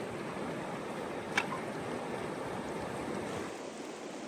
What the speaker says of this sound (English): At this point, we're basically just wading up the creek